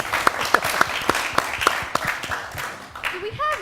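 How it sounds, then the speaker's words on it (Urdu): A television studio audience claps for a Pakistani talk show, starting as a run of evenly spaced, loud claps that blur into looser applause, then a voice begins talking near the end. "تو وی ہیو ڈبل تالی ہے، ڈبل تالی"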